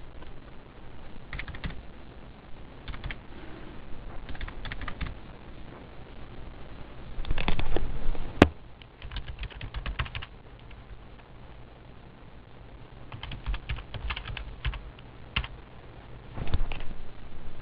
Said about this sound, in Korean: 202번부터는 직접 주소를 타이핑해서 입력하도록 하겠습니다.